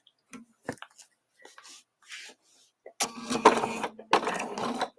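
Sewing machine stitching in two close, loud whirring bursts near the end, after a few quiet clicks and handling sounds.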